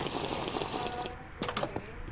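Water is collected in the video game Minecraft, with a sustained bright splashing, filling sound that cuts off and is followed by a few quick clicky bursts.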